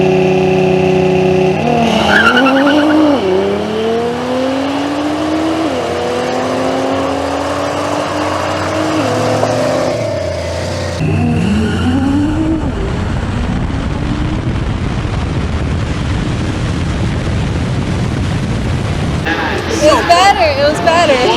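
A 1400whp Nissan GT-R launches hard down the drag strip at Greer Dragway, its engine screaming up through rapid gear changes. Each shift pulls the roar back before it climbs again, loud and close, and it ends in a rumbling, noisy wind-down.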